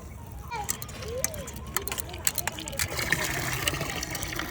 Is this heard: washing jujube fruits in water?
yes